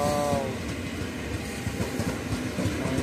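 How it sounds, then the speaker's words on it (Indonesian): A long twelve-car KRL Commuter Line electric train rolls past, producing a steady, close rumble of wheels and carriages that fills the short stretch without pause. "Kalau nggak salah ini ada 12 gerbong kereta api teman-teman."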